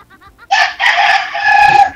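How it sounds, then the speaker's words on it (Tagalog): A rooster crows loudly and close by, a long, strained call following a few short clucks from chickens. "Marami po kayong manok dyan. Alaga niyo po."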